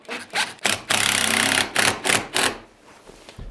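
A small wood router cuts a half-inch-deep recess in a wooden workpiece to mount an Irwin vise, heard as several short, loud, whirring bursts, one held longer, before fading to quiet.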